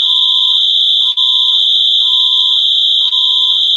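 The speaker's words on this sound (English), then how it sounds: "That's my house alarm." A house alarm sounds in a loud, continuous high-pitched electronic tone, with a lower pulsing tone beneath it that switches on and off in a regular rhythm.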